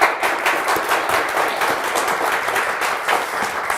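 Studio audience applause on a Turkish word game show, a steady dense burst of clapping that fills the whole stretch at close, even loudness.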